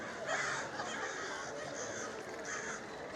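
Crows caw repeatedly at night at Disneyland, rough calls recurring every second or so over a steady wash of distant crowd and park background noise.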